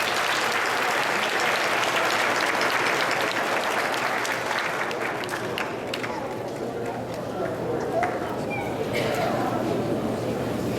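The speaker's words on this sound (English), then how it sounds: "Give yourselves a round of applause" An audience applauds at a fifth-grade graduation ceremony, loud sustained clapping that thins out midway as scattered claps and a few voices emerge from the crowd.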